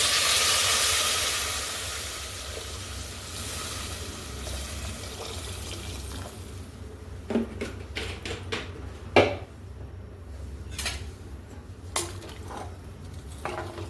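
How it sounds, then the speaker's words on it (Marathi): Water hits a hot pan of sautéed vegetables and spices for khichdi, bursting into a loud hiss that fades over a few seconds, followed by scattered clinks of a spoon against the pot. "आता यामध्ये आपल्याला टाकायचं आहे पाणी"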